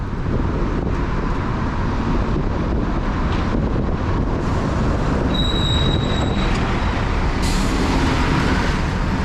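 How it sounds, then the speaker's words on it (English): A Scania Irizar i6 coach on a Bus Éireann Expressway route in Ireland pulls in with a rumbling engine amid heavy wind noise, then air brakes release a sharp hiss and a later short burst. "And that one is a Scania Irizar I6. Let's just pulled in."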